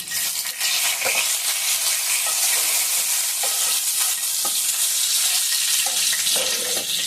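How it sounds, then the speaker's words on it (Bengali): Two bay leaves frying in hot oil in a kadai, a loud, steady close sizzle with a few scraping stir sounds, no voices. "কড়াইয়ে এখন আমি তেল দিয়ে দিয়েছি আর দুটো তেজপাতা দিয়েছি"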